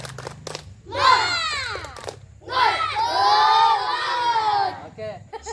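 Elementary schoolchildren in a classroom perform a spirited clapping chant, sharp rhythmic claps followed by loud voices chanting together in two energetic bursts.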